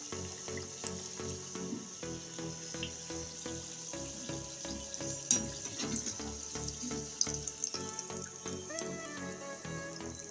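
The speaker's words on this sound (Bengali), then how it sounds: "আমি এরকম গোল্ডেন কালার করে ভেজে নিচ্ছি" A homemade two-ingredient afternoon snack sizzles in hot oil while frying until golden, a continuous bubbling crackle with scattered pops and faint scraping, steady and close with no talk.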